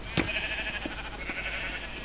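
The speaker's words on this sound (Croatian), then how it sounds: "3 ovce sam doveo" Sheep bleat in a video game: one sharp bleat near the start, followed by a sustained bright game tone and faint background noise.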